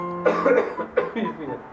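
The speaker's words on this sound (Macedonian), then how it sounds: "Опа, и ти нешто ми кашлаш." A person coughs in a home setting, a burst of several coughs followed by two more separate coughs, loud and close.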